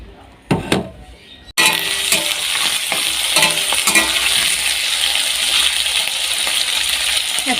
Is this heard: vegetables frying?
yes